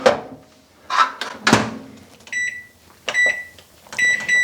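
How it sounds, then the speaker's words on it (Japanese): A tray of vanilla butter cookies goes into a preheated oven with a few close clunks and knocks of metal and door, followed by several bright electronic beeps from the oven; no talking. "では余熱の入ったオーブンに入れていきます。"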